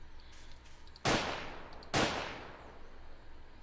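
Two sharp gunshots in Garry's Mod at a shooting range, roughly a second apart, each loud with a decaying tail over a quiet background.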